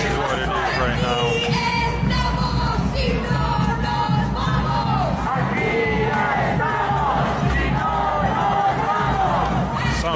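A protest crowd gathered at an airport chants and shouts together in a steady, loud, rhythmic roar with voices overlapping throughout.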